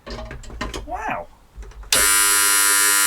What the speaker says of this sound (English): Remember it said if you put it in auto with the jug off, it would raise an alarm.